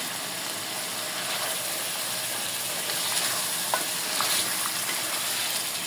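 Spices being stirred into mutton curry frying in a pan, a continuous sizzle with scraping stir strokes and occasional small pops, close and steady without talk.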